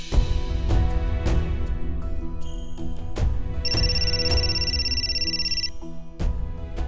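A mobile phone rings with a repeating electronic melody, loud and close, its chiming tones carrying over steady background music.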